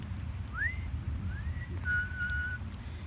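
A human voice imitates a whistle heard outside a tent at night on a campout: three brief rising and sliding whistled tones, fairly faint, over a steady low background rumble, with no talking.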